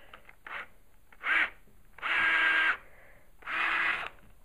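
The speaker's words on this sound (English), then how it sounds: "start a pilot hole for the auger" A power drill boring a pilot hole for a fence post auger, running in several short whirring bursts of rising length with brief pauses between them, close and fairly loud.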